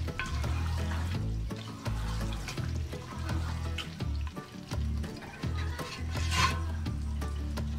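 Stirring creamy methi chicken in a pan after adding ground cumin: steady wet sizzling and scraping, with soft spoon clicks repeating throughout at close range.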